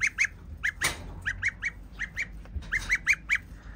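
Rapid bursts of honking calls from several geese, nearby and fairly quiet, coming in quick irregular pairs and clusters with a brief rustle among them.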